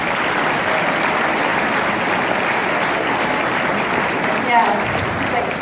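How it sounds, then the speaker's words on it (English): Audience gives a round of applause at a charity steak night dinner, steady sustained clapping from a roomful of people with a brief louder swell near the end. "Can we just have a round of applause for the food,"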